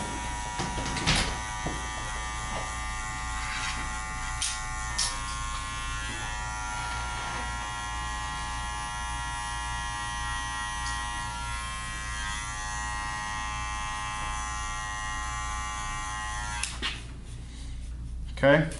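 Electric hair clippers fitted with a number 1 guard and a closed blade buzz steadily and close while cutting hair in a barbershop, a constant drone under intermittent talk.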